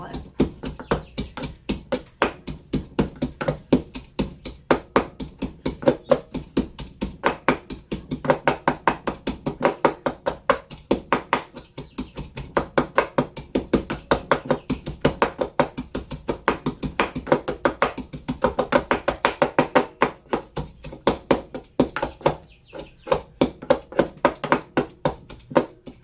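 Food being mashed by hand in a bowl in a home kitchen, a long run of quick, steady knocking taps that continues without pause for the full stretch.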